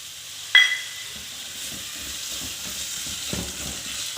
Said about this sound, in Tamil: நல்லா வதங்கட்டும் தக்காளி நல்லா வதங்கிட்டு